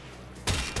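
A cannon hit destroying a Grineer galleon in Warframe: a sudden loud blast bursts in after quiet hum, followed by a second sharp impact near the end.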